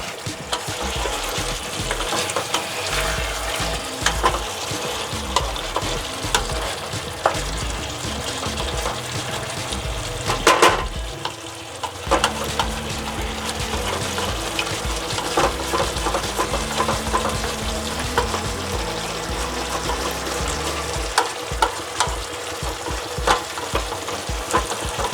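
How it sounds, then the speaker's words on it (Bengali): Chicken frying in spice paste in a pan, a steady loud sizzle with constant scraping and stirring strokes running throughout, the texture shifting slightly as the spoon moves. "চিকেনটা এইভাবে ভালো মতন কষিয়ে নিতে হবে। যতক্ষণ না কষানো হচ্ছে আমি ততক্ষণ এইভাবে নাড়তেই থাকবো।"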